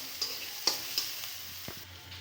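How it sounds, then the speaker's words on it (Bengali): Onion and garlic with a little salt and turmeric frying in a pan, a quiet sizzle broken by a few soft scrapes and taps of a stirring utensil. "দেখুন এই যে ভাজি হচ্ছে পেঁয়াজ রসুন"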